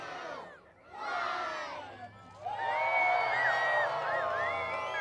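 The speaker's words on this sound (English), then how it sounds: "Mayor Lombardo got the crowd's help to count down to the big moment" A large outdoor crowd shouts together in loud, rising bursts at the Yucca Valley tree lighting ceremony, counting down and then breaking into sustained cheering and whooping, with children's voices mixed in.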